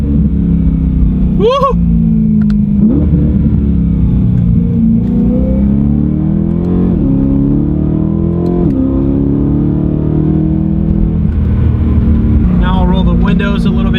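BMW E9x M3 with a muffler-delete exhaust rumbles loudly as the car revs and downshifts, heard from inside with the windows partly down; a person whoops over the engine near the start.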